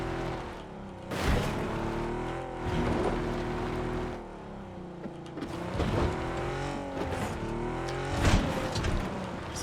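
Car engine droning steadily while driving in PUBG, with pitch rising and falling through gear changes and revs and brief louder surges, alone without talk.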